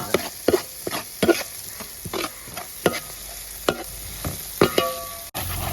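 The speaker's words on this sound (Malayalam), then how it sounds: "നമുക്ക് ഇഞ്ചിയും പച്ചമുളകും കൂടി ഇട്ട് കൊടുക്കാം. നല്ലപോലെ ഒന്ന് ഇളക്കി കൊടുക്കാം." Stirring tuna roast with ginger and green chilies in a pan: a series of sharp, close scrapes and knocks of a spoon against the pan roughly every half second, over a faint sizzle, with no voices.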